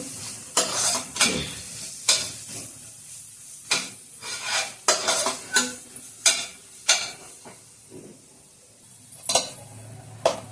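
Mint leaves fry in a pan for mint rice under a soft sizzle. Repeated scrapes and clinks of a spoon against the pan come in an irregular rhythm, close up, with no talk.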